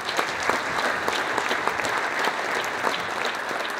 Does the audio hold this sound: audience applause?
yes